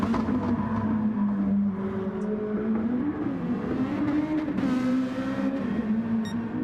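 A green Nissan GTR race car in a racing video game holds a steady, droning engine note that rises and falls slightly as it runs, loud and continuous with no voices.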